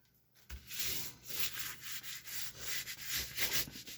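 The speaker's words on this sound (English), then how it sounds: "I'm going to burnish it" Paper tag burnished by hand-rubbing during craft work: close, brisk scrubbing strokes in a quick back-and-forth rhythm, starting abruptly after a brief quiet moment and continuing steadily with no talking.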